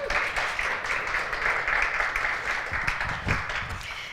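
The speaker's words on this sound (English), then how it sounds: "Let's give her a round of applause." A room full of people applauding, steady dense clapping at moderate distance that holds throughout with a few louder claps near the end.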